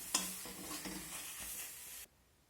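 Banana stem paste stirred with mustard oil in a hot pan: about two seconds of close, steady scraping and sizzling, then sudden quiet.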